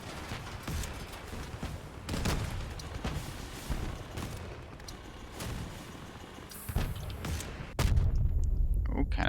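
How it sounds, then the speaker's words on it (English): Cannons fire in the vehicle-combat game Crossout. Repeated heavy booms come at uneven intervals over continuous battle and engine noise, and a louder burst of blasts arrives near the end. "Oh, cannons behind me."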